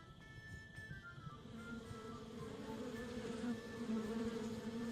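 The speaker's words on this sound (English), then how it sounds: "Stupid, greedy bees never want to share their honey with anybody." Swarming bees buzz in a video game adventure, a steady droning hum that grows slightly louder and fuller toward the end, with no voices.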